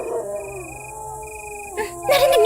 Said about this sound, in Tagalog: May umaalulong na mga aso.